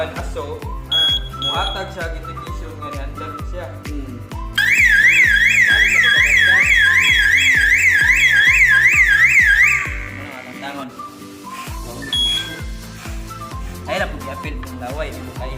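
An FDAS fire alarm system, set off by a smoke detector during a demonstration, sounds a loud warbling siren for about five seconds. Repeated rhythmic electronic tones and talk come before and after it.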